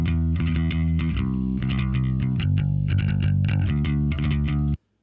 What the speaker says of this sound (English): Or that crunchy. It was like distortion or something.